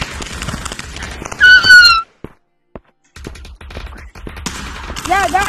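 Bursts of gunfire in the Aim XR VR shooter, a burst up front, a brief silence with a few isolated shots, then more firing, with squealing electronic effects and a player's voice talking over parts of it.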